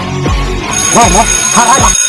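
A loud electronic ringtone plays nearby, its warbling tones rising and falling in a short repeating pattern.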